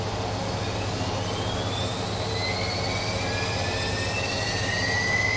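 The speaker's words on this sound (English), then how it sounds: "and we'll go ahead and spool it up" Turbine engine on the right side of a PMDG BAE Jetstream 4100 spooling up in the FSX flight simulator, a steady loud roar with a low hum and rising whine tones building over several seconds, with no talk.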